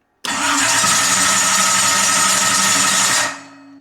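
An engine fitted with Aces EFI is cranked over by its starter in one sustained, loud, close whirring burst of about three seconds that cuts off abruptly, with no voices.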